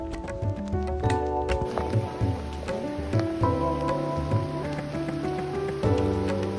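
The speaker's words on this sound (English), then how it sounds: "We're getting a nice little cool-off rain shower" Steady rain shower patters throughout on a mountain hiking trail below Piegan Pass in Glacier National Park, mixed with clattering and scattered outdoor noises, moderately loud with no talking.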